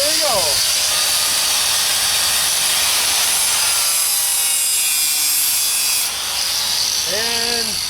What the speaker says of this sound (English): I'm going to turn the angle grinder on